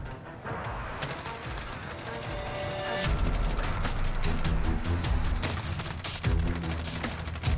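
A Holger-26 machine gun firing in Call of Duty Modern Warfare, with rapid sustained bursts of gunfire and sharp impacts layered over game ambience and explosions, loud and continuous throughout.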